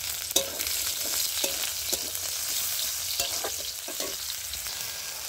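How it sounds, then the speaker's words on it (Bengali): Chopped onion fries in oil in a wok, a steady close sizzle punctuated by repeated scraping stirs and light spatula taps. "তেলের মধ্যে এবারে আমি পেঁয়াজ কুচনোটা দিয়ে দিচ্ছি।"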